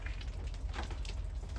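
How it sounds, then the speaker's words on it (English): Heavy rain pours down outdoors over a garden, a dense, steady patter of drops with a low rumble underneath and no speech. "Apologies if you cannot hear because of the rain, but it is chucking down outside."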